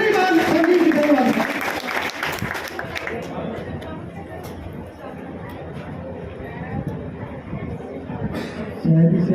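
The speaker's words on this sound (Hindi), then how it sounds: "जोरदार तालियों के साथ" Audience applause at an urban service camp event honouring a legislator, a dense steady wash of clapping from a crowd with murmured voices, slightly fading in the middle and swelling again near the end.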